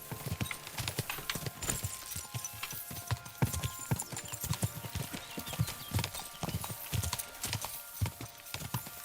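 Horse galloping during a horse race in the video game Kingdom Come: Deliverance 2, with rapid, rhythmic hoofbeats pounding steadily and close throughout, plus a brief whinny-like sound.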